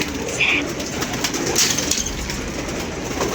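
Desi pigeons coo softly at close range in short, repeated murmuring calls, with a faint steady background hum.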